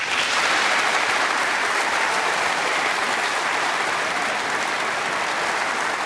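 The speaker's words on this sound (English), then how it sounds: "And a terrific round of applause for" A packed snooker arena audience at the Masters gives a sustained, even round of applause for John Higgins' century break, loud and continuous throughout with no commentary over it.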